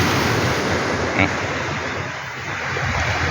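Steady roar of ocean surf washing onto Mae Ramphueng Beach in Rayong, Thailand, with wind buffeting the microphone throughout.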